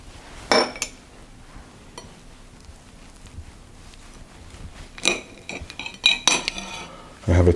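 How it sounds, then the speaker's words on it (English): A knife cuts into a warm hot cross bun and spreads butter, making a few sharp clinks and scrapes against a plate, with quiet gaps between bursts of cutlery contact. "I'll cut into one. And just put some butter on it."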